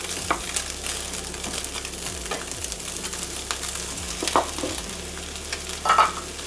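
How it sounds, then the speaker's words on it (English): Mushrooms fry in hot oil in a wok for a Thai curry, a steady close sizzle with occasional scraping stirs and clinks of the utensil against the pan. "Now I'll go ahead and add just a little bit more oil. And I'm going to go ahead and cook the mushrooms."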